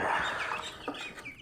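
Meat ducks on a farm give a short run of raspy clucking calls that rise and fall over about a second and a half, close by and fairly loud, with no talk over them.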